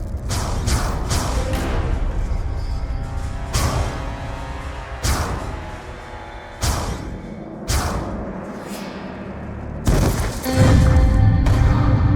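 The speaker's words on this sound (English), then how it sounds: "an explosion causes the floor beneath us to collapse" An explosion in the video game Black Ops 2 brings a floor crashing down, heard as a series of sharp booms and crashes with whooshing debris, ending in a loud, heavy impact.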